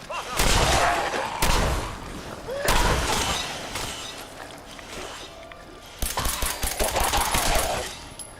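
Gunfire in the video game Fallout 4: loud repeated shots and bursts with crashing, shattering impacts, the last few seconds a rapid string of close firing.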